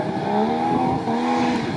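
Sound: off-road rally car starting, RFC Lithuania rally

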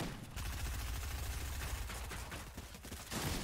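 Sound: enemy pistol shots in the video game Fortnite

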